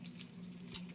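Brussels sprouts and sweet potatoes sizzle in a hot pan for a Thanksgiving dish, a steady low crackle and hiss that runs unbroken and fairly faint, with no talking.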